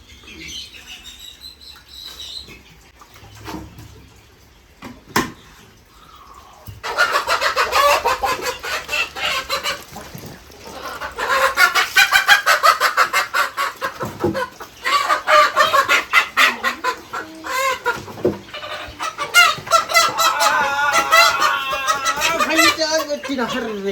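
Chickens cluck and squawk repeatedly, close by and fairly loud, with bursts of clucking building after a quieter start.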